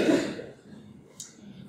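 A single short dry cough from someone with a cough, close and fairly loud, followed by quiet breathing.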